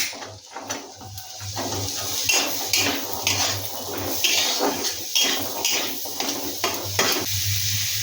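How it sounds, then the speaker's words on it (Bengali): Carrots are dropped into a pan for chicken soup with clattering metal and utensil scrapes and knocks, over a faint sizzle and a low steady hum. The irregular clinks stay close and fairly loud throughout. "প্রথমে গাজরটা দিয়ে দেবো।"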